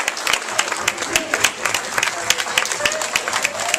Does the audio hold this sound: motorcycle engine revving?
no